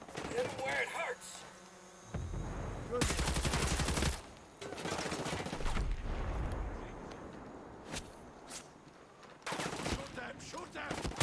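Bursts of rapid automatic gunfire in Ghost Recon Breakpoint, in dense volleys separated by short gaps, with battle noise continuing between them.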